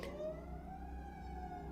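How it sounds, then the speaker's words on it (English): An emergency vehicle siren blares right outside a house, a steady wailing tone that holds loud and close for the whole stretch with no voices over it. "that just blared like right in front of my house"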